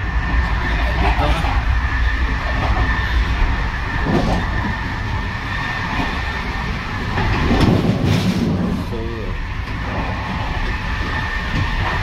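A sleeping train travelling from Lourdes to Paris, a continuous rumble of wheels and carriage noise throughout, close and loud, with occasional soft clicks and a voice talking faintly beneath it.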